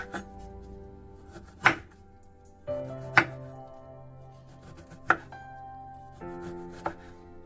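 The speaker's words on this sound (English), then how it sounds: "peel our lime" Knife working through a lime on a board, a handful of sharp thunks spaced a second or more apart, close and clear over a quiet background with a faint tonal hum.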